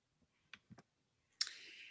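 A computer mouse double-clicks on a link, two quick close clicks after a short earlier tick, followed by a brief burst of hiss, recorded up close in a quiet room.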